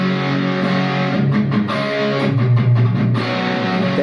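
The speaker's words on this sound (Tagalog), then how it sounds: "Pure Sky, medyo kulang. Pero pag sinamahan ko siya ng compressor," An electric guitar runs through a Pure Sky overdrive pedal together with a compressor, giving a mildly driven, sustained sound. A few chords and short note runs play close and steady, with nobody talking.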